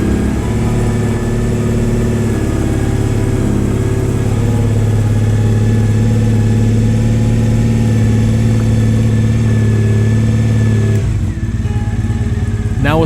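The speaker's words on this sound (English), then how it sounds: "let's go ahead and idle that engine" A Triumph Bonneville motorcycle engine idles steadily during an ECU tune, a loud, close, even low rumble with a constant throb, shifting briefly near the end.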